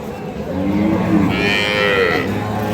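Sahiwal, Sindhi and local dairy cows moo loudly and close by, long low drawn-out calls over a steady background din of a busy livestock market in Ambari, Dinajpur.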